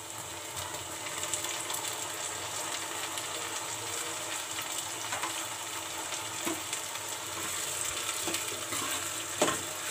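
Chopped tomatoes and chillies fry in a pan for baingan bharta, a steady moderate sizzle with occasional sharper spatula knocks toward the end, no talking over it.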